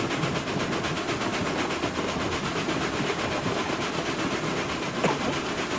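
A video game train runs on its rails with a steady, loud, broadband rumble and faint rhythmic clatter, unbroken for the whole stretch, with no talk over it.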